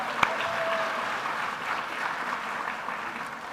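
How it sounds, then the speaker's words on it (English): A convocation audience breaks into steady, sustained applause that fills the hall at an even level, with one sharp clap standing out at the start. "I'll lead the applause."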